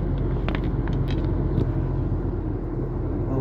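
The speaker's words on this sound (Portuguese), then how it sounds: "Um caminhão." A truck rolls slowly toward a weighbridge at the Corteva site in Itumbiara, heard as a steady low engine rumble and road noise close by, with no talk over it.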